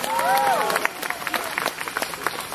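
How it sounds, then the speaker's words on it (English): An audience at a world music concert in Shanghai breaks into applause, a busy spread of clapping with scattered cheers and a few whistles near the start, fairly loud and continuous. "Give a big round of applause, Yang Yang."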